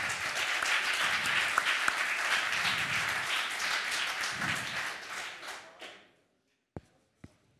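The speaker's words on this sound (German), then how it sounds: "Stark. Applaus." Studio audience on a German sports show applauds in a full, even burst of clapping that fades out, followed by silence and two isolated sharp taps.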